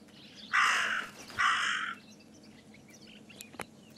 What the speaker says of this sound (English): Maybe it's the same raven that killed that poor sparrow.